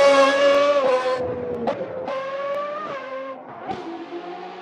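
A Ferrari F50 engine in the Assetto Corsa racing game revs hard through repeated rising pulls, each climb cut by a sharp gear change, loud and close with a high-pitched mechanical wail and no talking.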